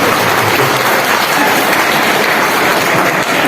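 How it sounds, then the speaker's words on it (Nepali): Loud, dense applause from a large audience at a Nepali political speech, sustained and even throughout without any break, with the crowd's clapping filling the space close by. "यो ताली मैले तपाईँले रिक्वेस्ट गरेर मागेको होइन"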